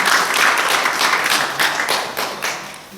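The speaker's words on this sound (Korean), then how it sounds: "박수로 한번 다시 한번." A church congregation claps steadily at a Parents' Sunday worship service, a dense sustained round of applause throughout with no talking over it.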